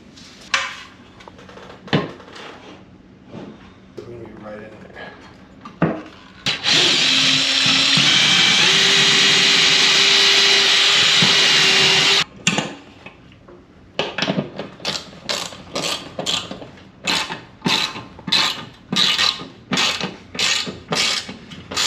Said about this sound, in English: It's a good sized pilot hole with a nice bite on this lag.